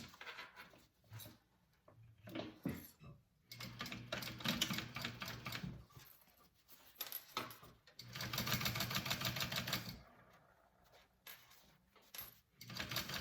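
Sewing machine top stitching a zipper seam on a small fabric bag, rapid mechanical whirring in several bursts separated by short pauses, close and clear with no talk.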